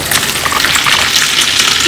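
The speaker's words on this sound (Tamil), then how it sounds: "ஹியூமிக் ஆசிட் எடுத்துக்கிட்டு கொஞ்சமாக தண்ணி விட்டுட்டு" Water splashes into a wide vessel holding humic acid fertilizer, a loud, brief, hissing gush with a spattering texture throughout.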